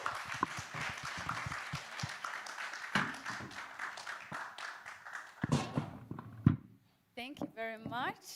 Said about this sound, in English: Can I have a round of applause for my panel?